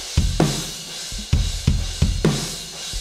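Unprocessed acoustic drum kit playing a steady groove alone: punchy kick and snare hits alternating with a bright, continuous hi-hat wash on top, dry and close.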